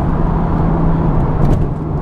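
A Porsche 911 GTS with a naturally aspirated engine idles or cruises with a steady, loud, low exhaust drone and a constant humming tone, holding even throughout with no voices.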